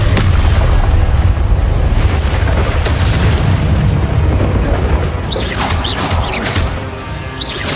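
A Confringo fire spell detonates in the Hogwarts video game, a loud sustained booming blast that rumbles on and slowly fades, with faint higher crackles trailing near the end.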